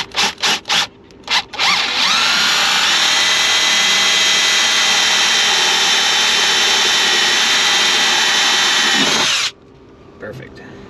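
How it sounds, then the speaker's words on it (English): A power drill with a 3/4 inch bit bores through the metal body of a Promaster van, a loud, steady high whine lasting about seven seconds after a few short trigger bursts, then cutting off abruptly. "Okay, we're gonna take a 3/4 inch drill bit,"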